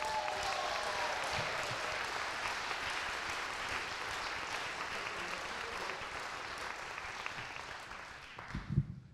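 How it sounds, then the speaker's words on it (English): A stand-up comedy audience claps steadily for a comedian being introduced on stage, a dense and even wash of applause that carries on for several seconds before tapering off at the end. "Ladies and gentlemen, put your hand together for Joseph Rogers."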